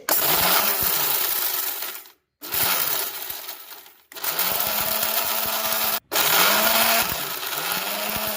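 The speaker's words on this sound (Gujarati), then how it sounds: "તો આપણે આને જટકે જટકે આપણે મિક્સર ની અંદર ક્રોસ કરવાનું છે" A mixer grinder whirs loudly in four short bursts, each cut off by a brief silence, with the blades rattling dry coriander seeds as it pulses.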